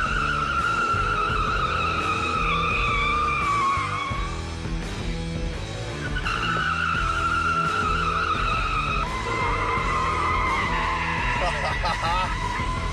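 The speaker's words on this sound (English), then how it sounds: "I will just pop it into drift mode here. Get onto the skid pad and give this a shot." A 2017 Ford Focus RS drifting on a skid pad in drift mode, its tires squealing loudly in long wavering screeches over a steady, hard-working engine roar, close and sustained throughout.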